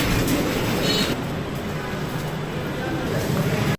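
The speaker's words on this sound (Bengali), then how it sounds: "সিল সিটি ট্রেন দেখতে পেলাম ঠিক 6 নম্বর প্ল্যাটফর্মে আছে" The Silk City Express stands at a platform of Rajshahi railway station, a loud, continuous rumble of train machinery close by, with faint squeals and hissing over the steady drone.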